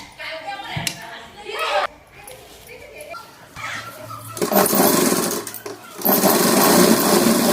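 A sewing machine stitches silk fabric in short runs, its rapid mechanical whir starting and stopping, loudest near the end, with someone talking over parts of it.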